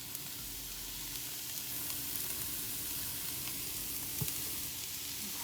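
Cauliflower rice hits a hot pan of browned onions and sizzles steadily, a constant close hiss of frying with faint stirring clicks and no speech.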